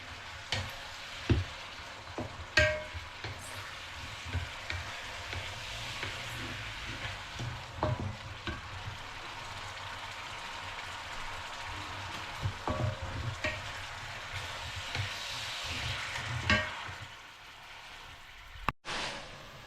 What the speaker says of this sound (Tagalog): habang nagpiprito tayo dito